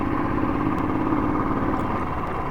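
A Royal Enfield Thunderbird 350 motorcycle engine runs steadily up close, a continuous mid-pitched thumping drone at even loudness throughout, with no voices.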